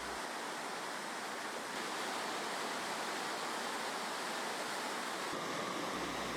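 A waterfall on Anan Creek near Wrangell, Alaska, pours in a constant broadband rush of water, steady and fairly loud with no pauses, heard alone without voices.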